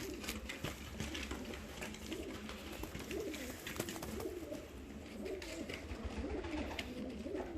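Several ornamental fancy pigeons coo in low, rolling repeated calls, close by, over a constant muffled background hum.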